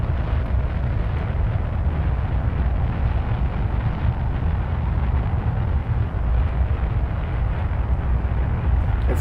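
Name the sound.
rocket explosions in Kerbal Space Program video game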